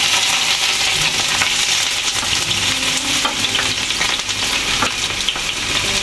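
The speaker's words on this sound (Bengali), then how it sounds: "কিছু পেঁয়াজ কুচি করে নিয়েছি, এটাকে হালকা একটু ফ্রাই করে নিব" Chopped onions fry in white oil in a pan with a steady, dense sizzle that runs unbroken throughout, punctuated by faint scrapes and light clicks of stirring.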